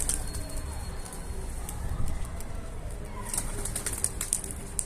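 A caught pigeon beats its wings in several short flurries of flapping, close and fairly quiet, with outdoor background noise around it.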